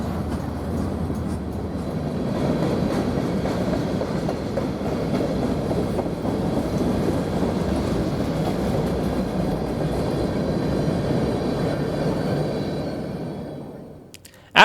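Local 60 rolls past in freezing weather in Cheyenne, Wyoming, a continuous heavy rumble with rhythmic clickety-clack of wheels over rail joints, steady and fairly loud for most of its length before fading abruptly near the end.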